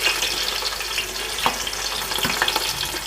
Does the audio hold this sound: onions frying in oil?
yes